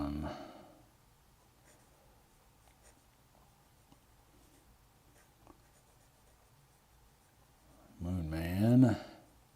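A Majohn Moonman P136 fountain pen with a medium nib scratches faintly across paper in a quiet room, soft intermittent strokes, with a voice speaking briefly at the start and near the end.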